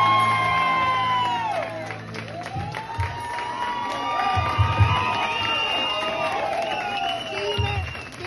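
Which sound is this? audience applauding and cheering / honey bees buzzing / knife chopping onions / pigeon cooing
audience applauding and cheering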